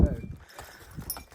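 Hooves of a draft cross horse clip-clop on hard ground, a close, irregular series of knocks mixed with rustling and faint voices.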